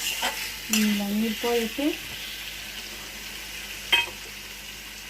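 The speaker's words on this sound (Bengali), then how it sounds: "ভালো করে তাহলে কষিয়ে নিচ্ছি, ভালো করে আলুর সাথে কষিয়ে" Prawn curry with potatoes is sautéed in a pan. A spoon scrapes as it stirs under a low sizzle, while a person speaks briefly over the cooking.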